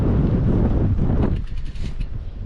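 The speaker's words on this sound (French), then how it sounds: "Et il est froid le vent." Cold wind blusters against the microphone during an electric mountain bike ride, a loud roaring gust that eases partway through into a lighter rushing.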